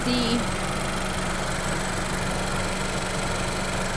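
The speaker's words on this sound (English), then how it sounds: "Okay, so engine on, AC on full blast." A 2018 Honda Civic Hatchback engine idles steadily with the air conditioning running at full blast, a constant close-up mechanical drone with a brief higher tone at the very start.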